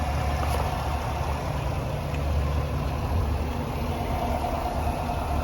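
A steady, low GMC Sierra 1500 AT4 pickup engine idles close by, smooth and even without knocking, a constant rumble with no voices.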